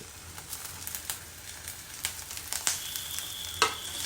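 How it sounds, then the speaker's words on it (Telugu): Eggplant pieces fry in oil in a pan, giving a steady close sizzle with scattered crackles and small pops, plus a few sharper clinks of stirring near the end. "ఇవి వేసేస్తాను ఇవి వేగుతుంటాయి"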